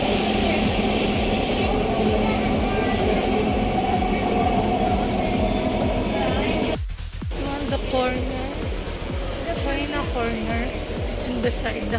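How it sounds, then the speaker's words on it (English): Inside a new Dubai Metro train, a constant loud rumble and whine of the moving carriage fills the space, briefly dropping before continuing, with voices talking under it. "Ito yung bagong train ng 2020."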